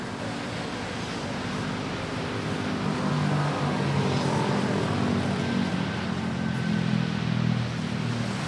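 An Airbus A330 airliner at Manila airport gives a steady, fairly loud engine rumble and roar that swells slightly midway, heard from a distance with broad background noise.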